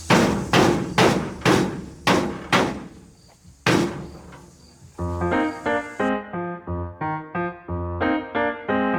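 A mallet pounds plywood for a van's window frame, about eight sharp, loud, evenly spaced wooden thuds with a pause, followed by a rhythmic tonal, melodic passage.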